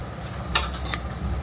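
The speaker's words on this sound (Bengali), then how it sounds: "পেঁয়াজ আর টমেটোটা ভালো করে" Onion and tomato fry in a pan for a mutton dish, giving a low, soft sizzle with a few light scrapes of a ladle stirring through it.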